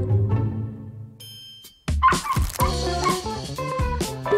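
A dog gives a few yips and whimpering barks, then bright cartoon-style music with chimes kicks in loud and takes over.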